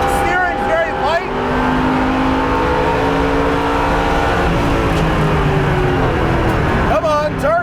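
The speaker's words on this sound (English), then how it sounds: "you can actually hear the traction system mitigating it" Engine of a 2015 Chevrolet Camaro Z/28 race car on track, running hard in traction mode 4 with loud sustained revving and pitch sweeps as the traction system cuts in against understeer, with someone talking over it.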